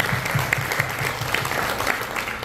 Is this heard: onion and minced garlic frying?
no